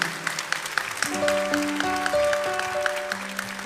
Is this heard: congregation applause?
yes